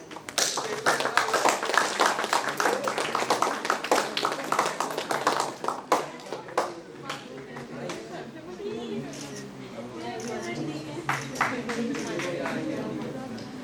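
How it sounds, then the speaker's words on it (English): An audience applauds at a National Education Day ceremony: a burst of dense clapping fades out after several seconds, and then a speaker's voice carries on over the room. "A huge round of applause, please."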